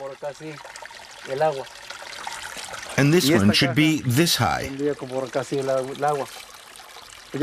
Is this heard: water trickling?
yes